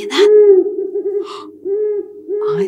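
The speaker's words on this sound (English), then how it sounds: "I think that's the sound of an owl in the forest." A forest owl hoots in long, steady, low calls, one drawn-out hoot after another with short breaths between. It sounds loud and close and is heard alone with no speech.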